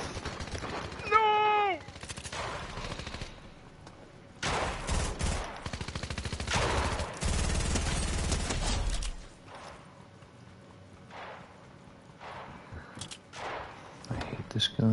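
Gunfire from a weapon in a shooter video game: several bursts of shots with a dense rapid stretch in the middle, mixed with game sounds and a player talking over it.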